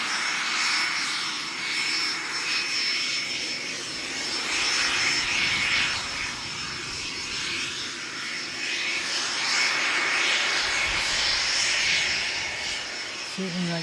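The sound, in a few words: Cessna Citation Mustang jet aircraft engine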